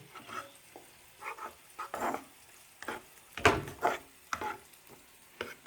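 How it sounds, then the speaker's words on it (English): Egg and onions fry in a pan with soft sizzling, broken up by irregular scraping and stirring knocks. The sounds are close and fairly quiet, with a few sharper clatters. "I'm gonna crack an egg, put some onions there, fry it real quick."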